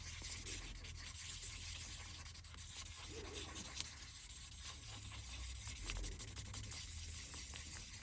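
Hand sanding with fine 400-grit sandpaper while fitting geared pegs on a cello, a soft steady rubbing scratch that runs quietly and continuously for several seconds with no talking.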